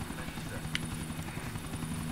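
Helicopter flying in the video game GTA 4, a steady rotor chop and engine drone running throughout at moderate level, with a brief higher clank partway through.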